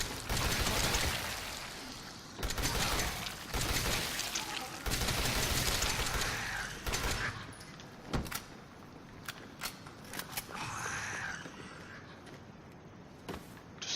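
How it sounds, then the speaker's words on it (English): Machine gun fire in the Resident Evil 7 video game, sounding as several loud sustained bursts of rapid shots that give way to scattered single sharp cracks and quieter game noise. "I wonder if the machine gun's supposed to be this week."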